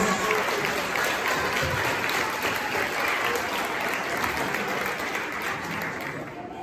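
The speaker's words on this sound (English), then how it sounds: "let's give a round of applause to all tonight's speakers" At a 2025 school band spring concert, a large audience gives a dense, sustained round of applause for the evening's speakers, an even wash of clapping that holds steady and tapers gently near the end.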